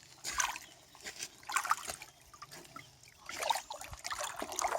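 Dirty brown water from a well trickles and splashes softly, irregular gurgling dribbles rising and falling at low volume with small drips in between.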